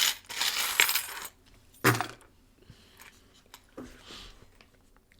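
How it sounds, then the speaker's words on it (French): Small divination charms tossed onto a table give a burst of bright clattering and jingling, then a second sharp rattle and a few scattered light clicks as the pieces settle, fairly close and without talk. "je vais lancer les breloques"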